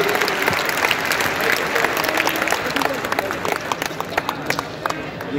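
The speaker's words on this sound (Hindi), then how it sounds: "जो अवार्ड विनिंग है उनके लिए तालियां बजा दीजिए" Dense, sustained applause and cheering from a large crowd at an awards event at the Biswa Bangla Convention Centre in Kolkata, with scattered voices mixed in and sharper claps standing out toward the end.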